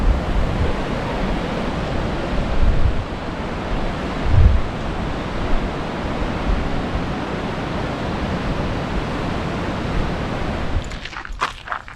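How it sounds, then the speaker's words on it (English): Steady, loud roar of Lower Yosemite Falls heard from the bottom near the plunge, a broad wash of crashing water with brief thumps and bursts near the end. "we're at the bottom of Lower Yosemite Falls."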